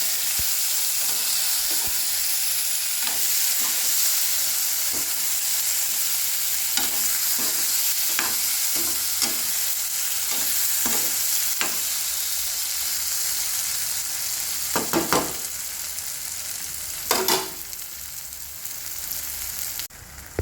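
Eggplant curry (ennai kathirikkai kuzhambu) being stirred in a pan with a paste, steady sizzling under repeated scraping strokes of a spoon, a few louder clacks near the end, no talking.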